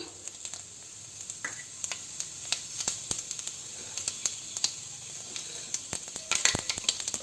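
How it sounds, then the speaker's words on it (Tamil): Fenugreek and cumin seeds sizzle steadily in hot oil for an egg drop curry, a soft continuous frying hiss broken by small pops and crackles that grow busier toward the end. "ஆயில் சூடானதும் நம்ம எடுத்து வச்சுருக்கிற வெந்தயம், சீரகம் இது ரெண்டையும் போட்டுக்கலாம்."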